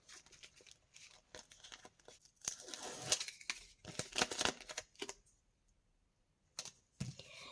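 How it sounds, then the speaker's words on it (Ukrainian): Close crinkling and tearing of a paper packet being peeled open, in short scratchy bursts with brief quiet gaps between. "Тому спочатку відклеюємо пакетик."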